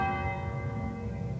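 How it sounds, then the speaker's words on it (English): A distant priory church bell rings once, its tone sustained and slowly fading, soft and alone. "Visitors to the castle might sometimes hear the distant Priory bell of long ago"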